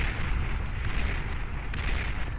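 Defensive turrets fire during a Beyond All Reason match on Canis River, a dense continuous barrage of booming blasts and crackling impacts layered over a heavy low rumble, loud and close with no pauses.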